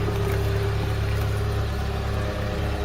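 Vehicle engine idling steadily after exhaust repair, a continuous low rumble with a smooth, even drone and no pops or gaps, close and fairly loud for the whole stretch.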